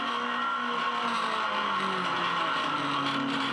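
A Ferrari 430 GT race car, running less than perfectly, drones past at the Clipsal 500 street race, a steady, sustained engine tone whose pitch slides gently up and down without any break.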